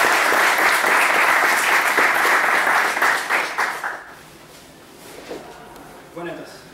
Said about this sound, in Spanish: les pido un fuerte aplauso para que comenzara